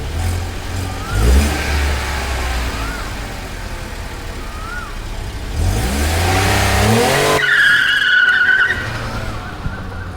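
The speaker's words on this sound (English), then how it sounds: "Right now we are going to do some wheel spin with the traction control off." A car spins its wheels with traction control switched off, the engine revving hard while the tyres screech and squeal in long bursts, loud and close, ending in a higher-pitched whine.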